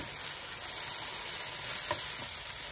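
Tomato uttapam sizzles steadily in a hot pan, a close, even frying hiss that continues without pause through the short clip.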